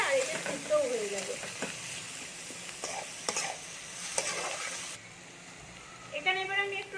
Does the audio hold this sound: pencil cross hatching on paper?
no